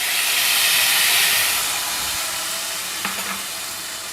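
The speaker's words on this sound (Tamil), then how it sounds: "இப்போ நம்ம தக்காளி அரைச்சி வச்சதை சேர்க்குறேன்." A loud, steady sizzle and hiss as ground tomato puree hits a hot pan while making sambar, easing slightly after a couple of seconds, with a brief clink of a utensil near the end.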